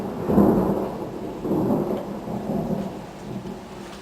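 Thunder from a nearby lightning strike rolls in deep, loud swells over steady rainfall during a June storm, with no voices.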